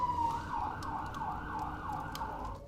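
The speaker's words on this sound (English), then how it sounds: "Sorry about the sirens, folks." A wailing siren sweeps up and down steadily for the whole stretch, loud and fairly close, with faint traffic rumble underneath.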